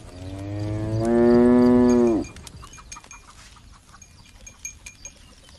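A water buffalo bull on a farm gives one loud, close, drawn-out low bellow that rises and cuts off after about two seconds, followed by quieter rustling and scattered outdoor sounds.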